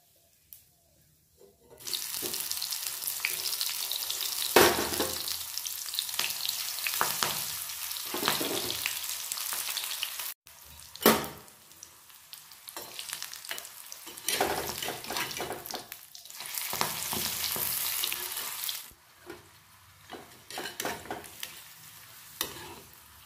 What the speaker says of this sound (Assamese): মোৰ দাইলটো বইল হৈ গ'ল, এতিয়া ফ্ৰাই কৰি ল'ম